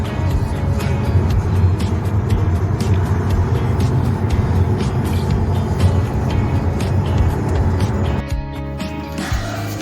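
Taxi rolling along a road in Dubai: steady broadband road and engine rumble with tire noise, heard from inside or close by, constant and fairly loud throughout, with no one talking.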